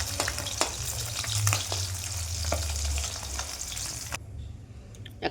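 Tilapia frying in hot oil in a home kitchen, a steady close sizzle with crackles and a few spattering pops, running on for several seconds before it suddenly drops away to near quiet.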